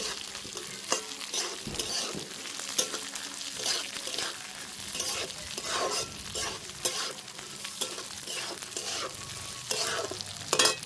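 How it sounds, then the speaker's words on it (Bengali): Green chillies fry in a pan for sabudana khichuri, a steady close sizzle broken by repeated scraping stirs across the full length, with no voices. "কাঁচা লঙ্কা দিয়ে দেবো, কিছুক্ষণ ভেজে নেব।"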